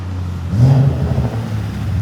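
A modified BMW engine revs with a deep, low tone, a steady loud rumble that swells briefly in the middle of the clip.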